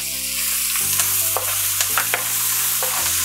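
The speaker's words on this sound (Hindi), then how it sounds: "अब इसको ऐसे भूनेंगे" Onion and cumin seeds fry in butter for Mumbai street-style tawa pulao, a close steady sizzle with stirring scrapes, while a low tonal hum of background music runs beneath and no one speaks.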